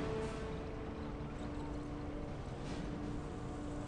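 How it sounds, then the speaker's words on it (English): A vehicle engine runs steadily in the Company of Heroes war strategy game, a constant broad rumbling drone that holds at an even, fairly quiet level throughout. "Just listen to that engine."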